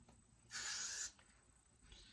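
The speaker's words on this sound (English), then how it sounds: "I'm gonna spray it real quick with the Got to Be spray again" Got to Be hair spray is spritzed onto curls in one close, sharp hiss lasting about half a second, followed by a much fainter short puff of spray.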